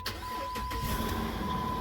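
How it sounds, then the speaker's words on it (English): A car engine cranks and catches during a no-start repair, a steady mid-pitched running drone following the start with a tonal whine, close and fairly loud with no talk. "let's see if we can actually start the car"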